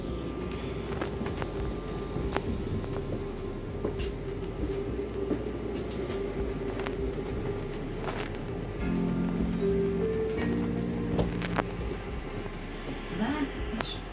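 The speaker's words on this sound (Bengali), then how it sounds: "দোতলা ট্রেন।" A double-decker passenger train in Hungary, heard from inside as a continuous low rumble with rattling and rhythmic clicks of the wheels, a few faint tonal squeals, and voices speaking over it.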